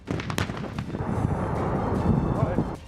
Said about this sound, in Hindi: वहां मौजूद छोटी और बड़ी तोपों से भी दुश्मन के इलाके पर हमले का अभ्यास किया गया।